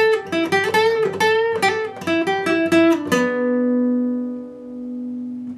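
Electric guitar playing part of a solo at full speed: a quick run of bright picked notes for about three seconds, ending on one long sustained note that rings out and fades.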